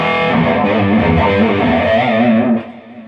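Crunchy, moderately driven classic rock electric guitar tone from a Music Man Steve Morse guitar, a continuous played passage that stays loud and full before dropping off near the end, with no talking.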